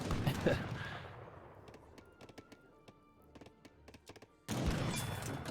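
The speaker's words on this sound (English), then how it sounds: "The sound when he shoots with his gun is hilarious." Rapid, crisp gunfire clicks from a Star Wars-style unit in Age of Empires 3 ring out in quick irregular bursts after a louder battle rumble, which returns at the end.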